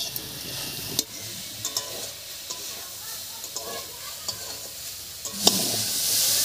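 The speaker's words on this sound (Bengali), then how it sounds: "এবারে বেশ কিছুক্ষণ রান্না করে শাকের মধ্যে যে জলটা আছে এই জলটা শুকিয়ে নেব।" Bathua greens stir-frying in a pan to cook off their water, a steady soft sizzle with intermittent scraping stirs and small clinks, swelling louder near the end.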